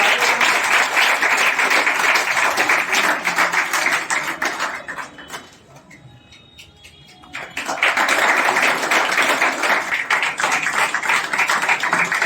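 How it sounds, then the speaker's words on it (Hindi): Loud crowd applause fills a youth fitness group's award ceremony in Barh, Patna. The clapping dips to a quieter lull midway, then surges back just as strongly. "ताली बजते रहना चाहिए।"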